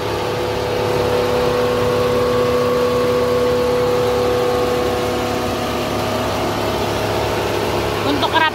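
An idling engine in a former taxi car with its hood open, a steady low hum with harmonic drone running continuously throughout and a brief rattling burst near the end.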